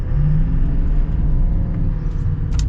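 A 2022 Chevy Silverado 2500 LT 2WD diesel pickup accelerates with a loud, steady low engine rumble and whir heard from inside the cab, with no talking.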